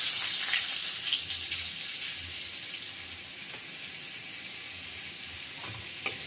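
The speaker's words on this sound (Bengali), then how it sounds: "এইবারে ওই তেলের মধ্যে আমি খানিকটুকু বাটার দিয়ে দিচ্ছি।" Butter melting into hot oil left from frying paneer in a home kitchen pan, giving a steady broadband sizzle that is loudest at first and eases slightly, with a small clink near the end and no talking.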